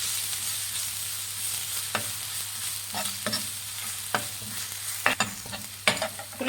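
Finely chopped onion fries in hot oil, a constant close sizzle with periodic scraping and stirring strokes of a spoon against the pan, no voices.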